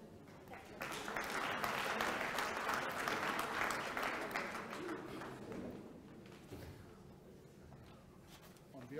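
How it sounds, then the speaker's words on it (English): Audience applause at a congress session after a presentation, a dense sustained wash of clapping that swells quickly and fades slowly over several seconds, with voices murmuring underneath toward the end. "Round of applause."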